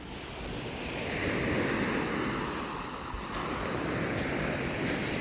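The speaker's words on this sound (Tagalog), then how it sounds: "Malakas ang alon doon." Strong ocean waves on a beach at Dinadiawan, Aurora: a continuous, loud roaring wash of surf with steady broadband rush and wind, no talk.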